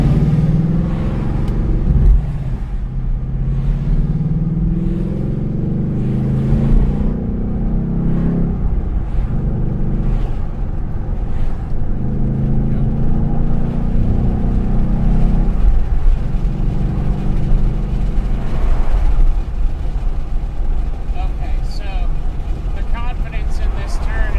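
A car with Steeda adjustable front and rear sway bars drives on a public road at lower speed, its engine and road noise a steady near rumble throughout, with occasional rises in revs.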